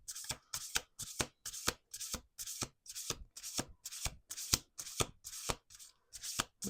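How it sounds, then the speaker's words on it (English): Close, quiet shuffling of a card deck: rhythmic rounds of brisk riffles and soft rubbing swishes repeating steadily for several seconds, alone without any voices. "Last shuffle."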